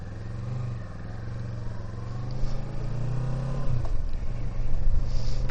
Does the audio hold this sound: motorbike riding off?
yes